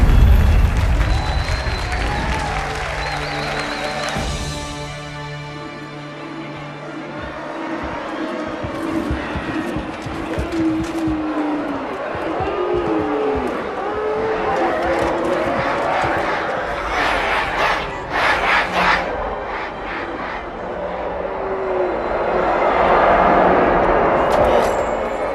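Crowd cheering in a Halo: The Master Chief Collection cutscene, a broad roar of many voices mixed with vehicle engine sounds and music, with people talking over it.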